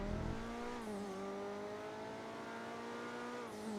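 Engine of an NSX-style sports car in GTA Online, a steady droning whine that holds its pitch, dips once briefly near the start as if shifting, under faint background noise with no talk.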